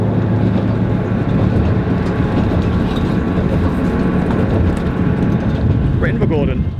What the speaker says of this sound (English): We're in Invergordon. This is our train.